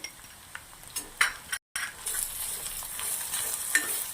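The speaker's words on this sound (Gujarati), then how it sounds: "ભીંડા આપણા સંતળાવા આવી ગયા છે. તો આપણે અંદર એક પેસ્ટ નાખવાની છે." Okra sautés in a pan with ginger-garlic-chilli paste as a spatula stirs and scrapes: soft sizzling under clinking metal strokes, one brief dropout midway, close and moderate, no talk.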